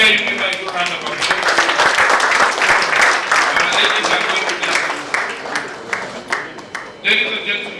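An audience at an evening event claps in a loud, sustained round of applause that gradually thins toward the end, with a voice speaking over it.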